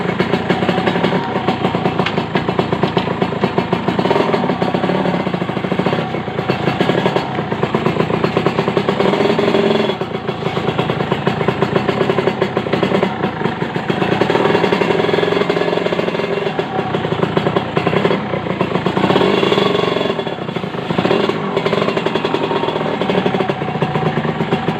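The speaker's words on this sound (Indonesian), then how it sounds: "Halus ya mesinnya bro." Kawasaki Ninja R motorcycle fitted with SSR bodywork, its engine running steadily and close by for the whole stretch, a dense, continuous mechanical drone with no pauses.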